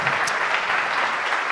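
Church congregation applauding together, a steady dense wash of clapping from many hands heard alone for a brief moment.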